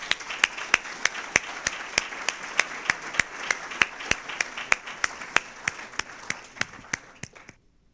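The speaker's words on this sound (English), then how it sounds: "I'd like to give a round of applause to these people who have worked for the last 40" An audience at a live talk on UFO crash retrievals claps in a quick, even rhythm for several seconds. The clapping is fairly close and clear, then stops abruptly.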